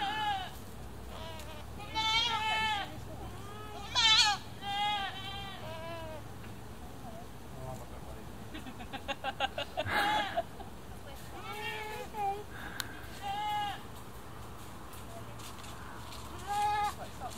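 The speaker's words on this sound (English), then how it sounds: "What a curious goat." Several goats bleat intermittently, some close and loud, others quieter, with occasional background voices between calls.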